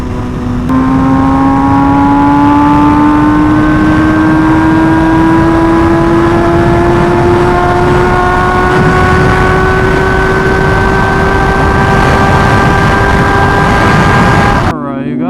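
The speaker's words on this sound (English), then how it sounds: "I never ride this bike, so that was a fun little night ride, and hopefully like a nice pure sound for you guys" MV Agusta motorcycle engine on a night ride, a loud close drone rising slowly in pitch as the bike accelerates steadily in one gear for about fourteen seconds, then cutting off abruptly.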